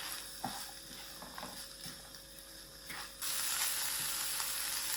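Carrots, peas and capsicum cook in a pan with a soft, continuous sizzle and a few light stirring taps, the frying noise swelling louder and hissier near the end.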